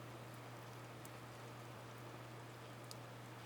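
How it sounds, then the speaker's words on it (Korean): Steady rain heard through a slightly opened window, a faint, even hiss throughout with a constant low hum beneath it. "창문을 살짝 열어보니 빗소리가 2배로 커진다."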